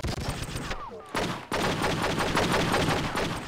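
Rapid gunshots in True Crime: Streets of LA, a dense, loud volley of shots that cuts out briefly and then keeps firing steadily.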